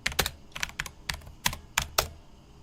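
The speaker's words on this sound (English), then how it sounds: "You just type in Google keyword tool" Keystrokes typing out a search term on a computer keyboard, several quick bursts of clicky taps with brief pauses between, close and fairly loud with no talk.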